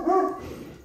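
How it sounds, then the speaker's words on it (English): A dog gives a single short, close bark that trails into a brief whine, alerting to the mailman at the door indoors. "Our dog Rascal was just letting us know that the mailman was here."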